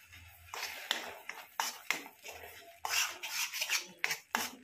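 A utensil stirs green chutney in a pan, making close, uneven scraping and clinking strokes in quick succession, with some soft rubbing between them and no talk.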